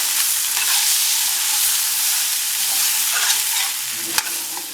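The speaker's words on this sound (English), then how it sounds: "And now this will get stirred around for another 6 minutes." Tomato paste being stirred and fried in a pan for Soviet-style beef stroganoff, a steady bright sizzle with soft scraping of the stirring, close and continuous, and a small knock near the end.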